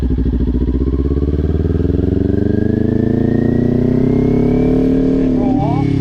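A beginner's motorcycle engine revs up as throttle is applied, a loud, close, buzzing drone rising steadily in pitch, with a brief wobble near the end.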